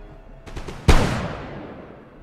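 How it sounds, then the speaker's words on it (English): Musket volley fire in the strategy game Empire: Total War: a few quick scattered cracks followed by one loud, massed volley that rolls away into a long, fading echo. "Have you men got a volley to fire off?"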